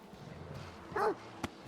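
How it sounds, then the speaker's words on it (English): Creatures brawl in Stalker 2 as two pseudo-dogs fight a snork: a short snarling, yelping burst of canine-like cries, followed by a single sharp impact, over low ambient game noise. "It's two dogs having a fight with a snork."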